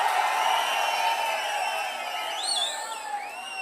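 A large crowd cheering at an outdoor political campaign rally, a dense, sustained roar of voices with whistles and shrill whoops rising through it, loud and continuous throughout.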